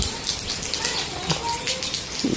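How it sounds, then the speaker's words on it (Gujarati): Steady overnight rain keeps falling outside a home in the morning, a dense, even hiss that fills the whole moment without pause. "આજે વરસાદ ચાલુ જ છે"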